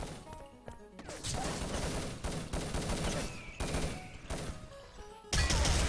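Rapid gunfire bursts and an explosive crash in a competitive online shooter match between Hungary and France, including a G36 rifle, dense overlapping shots with a sudden loud blast near the end, no talking.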